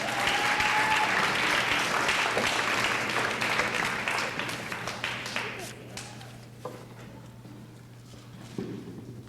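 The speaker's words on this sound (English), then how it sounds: "another round of applause" Audience applause fills a graduation ceremony hall, loud and dense at first, then thinning over several seconds into scattered claps with faint crowd murmur and background noise.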